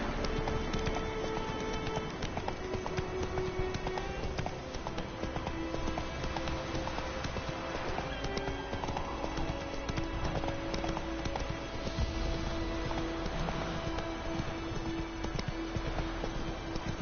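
Roach, a horse in The Witcher 3, gallops in a steady, continuous clip-clop of hooves that runs unbroken under background game music and ambience.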